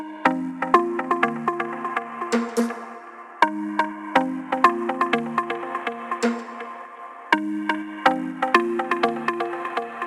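Layered melodic house synths built with stock Ableton plugins, where a main plucked synth riff is answered by a response layer, giving bright, repeating plucky notes in a looping two-bar phrase, loud and upfront with no voices.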